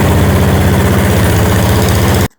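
A Chinese mini excavator's engine idles loud and close with a rough, steady low throb, then cuts off abruptly into silence.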